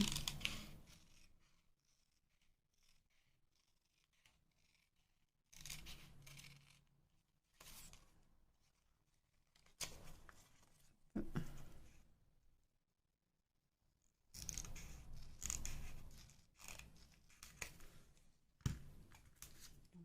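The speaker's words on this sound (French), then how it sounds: "Donc je vais couper à peu près la moitié." Paper being cut with scissors for a scrapbooking pocket envelope, several separate bursts of snipping and rustling set apart by quiet pauses, close by.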